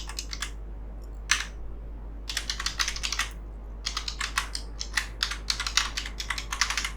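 Rapid keystrokes on a computer keyboard in irregular bursts with short pauses, close and fairly quiet over a steady low hum, no talking.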